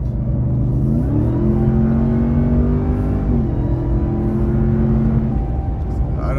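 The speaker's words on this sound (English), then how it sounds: "I don't know if you guys can hear the sound of the supercharger whining, but it is crazy" Supercharger whine from a 700+ horsepower Hydro Blue Ram TRX pickup: a loud, steady engine drone with sustained tonal whine layered on top, pitch stepping up and down, heard close from the cab.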